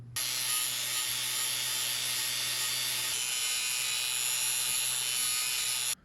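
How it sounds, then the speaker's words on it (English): An angle grinder runs steadily against metal for about six seconds, grinding a flat spot on a camping griddle part, a loud continuous high-pitched whine and rasp that starts and stops abruptly. "I'm gonna grind a flat spot on the top"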